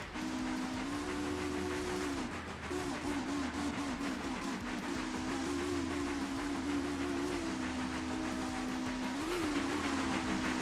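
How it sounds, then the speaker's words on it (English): Steam locomotive in a train video game, a steady loud mechanical rumble with a sustained droning whistle-like tone that wavers slightly in pitch, continuous and close with no talking. "the locomotives are very noisy"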